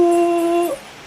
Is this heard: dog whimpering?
yes